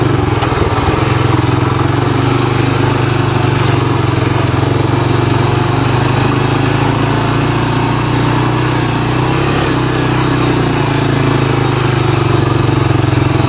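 A 1985 Honda TRX250 utility ATV engine runs steadily while riding, a loud continuous low drone with a constant buzzing hum that barely changes in pitch throughout.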